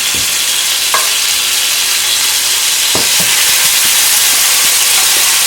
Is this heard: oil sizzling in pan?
yes